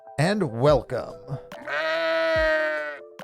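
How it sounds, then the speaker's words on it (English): A sheep bleating sound effect plays as a loud, drawn-out wavering baa right after someone briefly speaks a greeting. "I'm getting a lot of mileage out of that sheep sound effect"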